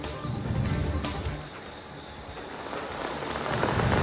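Heavy monsoon downpour during a storm in Kollam district, Kerala, a steady dense hiss of rain on surfaces with low rumbling, swelling slightly toward the end, with no voices.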